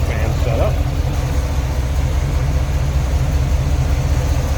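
A 1971 Chevrolet Suburban with a Pro Comp intake and dual electric fans idles steadily, a deep even engine rumble heard close and unchanging, with faint speech over it.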